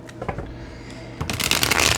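Tarot cards being shuffled by hand, a soft riffling patter that builds into a dense, close flurry of card flicks.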